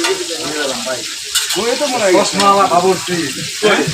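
Hilsa fish and eggplant fry in hot oil at a Bangladeshi food stall, a steady close sizzle under a voice talking throughout.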